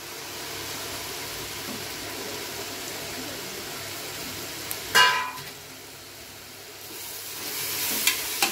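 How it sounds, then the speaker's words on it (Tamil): Chopped vegetables for veg biryani sauté in a pan with a steady, moderate sizzle and stirring scrapes. One sharp clatter comes about midway, and the frying swells again near the end. "காய்கறி போட்டு நல்லா வதக்கி விடுங்க."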